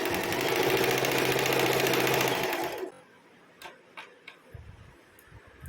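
A sewing machine stitching a seam margin on a kurti, a fast rhythmic mechanical whir and clatter running for nearly three seconds before stopping, followed by faint ticks and handling noises.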